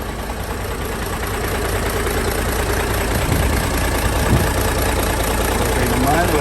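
A 2010 Isuzu Giga 12-wheeler wing van's 6UZ1 diesel engine idles steadily up close, a dense continuous rumble with a faint rhythmic knock, with a voice occasionally over it.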